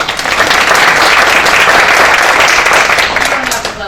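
Close, loud applause from an audience at a school annual general meeting, a dense burst of clapping that holds steady and then tapers off at the end.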